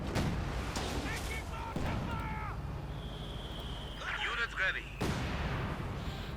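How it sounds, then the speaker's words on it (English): Heavy artillery fire in Company of Heroes 2, with booming impacts and explosions amid battlefield noise under steady commentary. "artillery fire going in"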